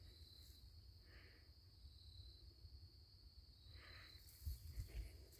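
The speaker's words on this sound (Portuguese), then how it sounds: "Só grilo." Crickets chirp at night outdoors in a natural setting, a steady, faint, continuous trill with no pauses and no voices.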